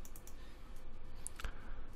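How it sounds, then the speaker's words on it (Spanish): A computer mouse clicks a few times in quick succession to select text in a LibreOffice document, the clicks faint and crisp over a quiet background hum. "si hacíamos tres clics, seleccionábamos una frase y si hacíamos cuatro clics, seleccionábamos el párrafo"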